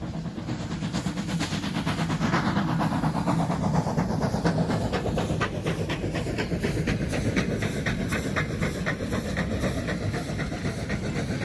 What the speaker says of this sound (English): That was the Mary Rattler steam train that comes through Gympie twice a week.